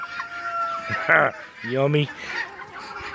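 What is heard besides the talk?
rooster crowing and clucking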